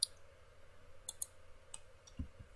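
Computer mouse clicks while cutting lines in AutoCAD, a few soft, sharp clicks spaced irregularly in a quiet room, faint and close.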